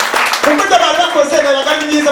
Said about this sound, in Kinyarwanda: muwambere amashyi nanone niba ari ngombwa